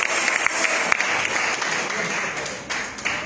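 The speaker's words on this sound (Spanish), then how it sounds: "Dale un aplauso al Rey" A church congregation claps for the King during a Spanish-language service, dense steady applause filling the room, loud and close, with a voice faintly underneath.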